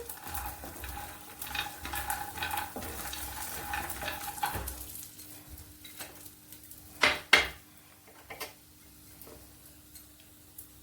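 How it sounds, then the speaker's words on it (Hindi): Almonds and other dry fruits frying in a spoonful of ghee in a pan, with a busy sizzle and steady spoon scraping that ease into a quieter sizzle broken by a few sharp metallic clinks. "लगातार हम इसे चलाते रहेंगे। बस 1 चम्मच घी में ही हमारे सब फ्राई हो जाएंगे ड्राई फ्रूट्स।"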